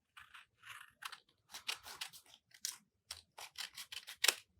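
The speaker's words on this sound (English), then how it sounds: "we're going to cut the extra bit here off with our pair of scissors" Scissors snip through folded origami paper for a whale model, a quick run of close, crisp cuts in short bursts with brief pauses between them.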